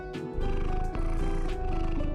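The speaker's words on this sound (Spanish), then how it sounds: "Miró hacia abajo, donde un pequeño gato anaranjado la observaba con curiosidad" A small orange cat purrs in a steady, continuous rumble, close and moderately loud, with no voices over it.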